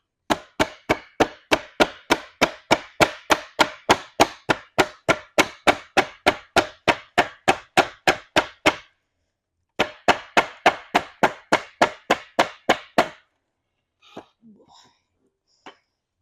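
Steady, evenly spaced hammer taps sound up close during chair recaning, about three per second, then pause before a shorter run and a few faint knocks at the end.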